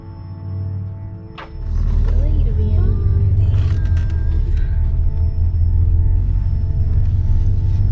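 A van is driven along and gives a steady, loud low rumble throughout, with faint creaks and rattles. Engine pitch rises briefly near the start, and no one speaks.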